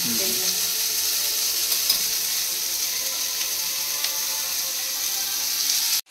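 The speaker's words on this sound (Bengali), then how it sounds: "আগে আলু আর পেঁয়াজটা ভেজে মেয়েটার জন্য অল্প তুলে নেবো" Potatoes and onions frying in a pan give a dense, steady hiss of sizzling oil that holds loud and unbroken throughout, with no voices.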